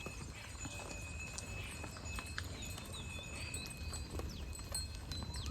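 Cows and calves walking past on a farm, hooves clopping in a steady, overlapping patter at moderate distance over a constant outdoor hum, with no talk.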